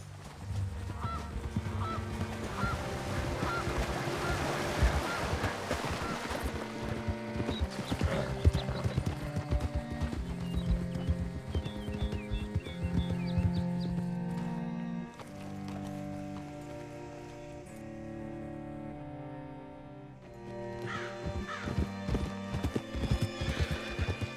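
Horse hooves clip-clop steadily in Red Dead Redemption 2, a continuous trot under a layer of music with a brief whinny, fading slightly near the end before resuming.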